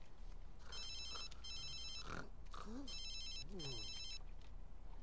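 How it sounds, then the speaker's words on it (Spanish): A phone rings at 2 AM in the video game The Sims 3, repeated electronic ring bursts in a steady pattern, with soft speech-like game chatter underneath. "¿Por qué a las 2 de la mañana te suena el teléfono, Elmer?"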